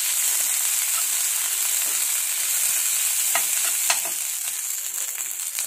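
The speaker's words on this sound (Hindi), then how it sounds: "सबको अच्छे से फ्राई कर दिया है, गैस का फ्लेम ऑफ कर देंगे।" A rice-based snack frying in a pan with green chili sauce and tomato ketchup, a loud, steady sizzle with a few scraping stirs toward the end, close by and without any voices.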